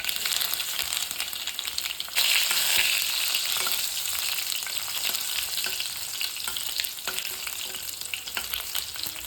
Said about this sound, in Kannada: ಇವಾಗ ಬೆಳ್ಳುಳ್ಳಿ ಹಾಕ್ತಾಯಿದ್ದೀನಿ.